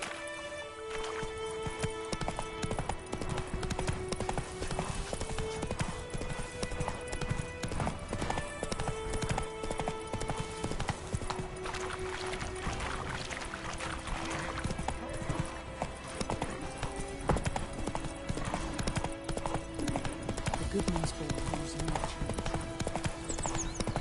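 Horse hooves clip-clop in a quick, steady galloping rhythm in the Witcher 3 video game, continuous and fairly close over game music, with no talking.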